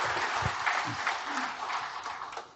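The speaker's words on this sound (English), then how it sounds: "Brethren, let us give them a big round of applause." Applause at the public installation of officers of Calasiao Masonic Lodge No. 449, a dense wash of clapping from the assembled brethren filling the room, steady and fairly loud for a couple of seconds before easing off.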